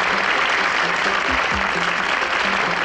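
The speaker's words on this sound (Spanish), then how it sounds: "¡Un fuerte aplauso!" Loud, continuous audience applause fills a concert scene in an animated show, with faint background voices mixed under the clapping.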